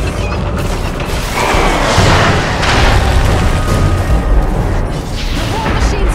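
War machines blow up in a Lord of the Rings: War in the North battle, heavy booming explosions and crashing debris rumbling continuously for several seconds, loud and close.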